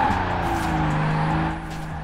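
Car engine in Forza Horizon 4 straining as it accelerates in second gear, a steady droning motor tone rising slightly, loud and continuous before easing off near the end.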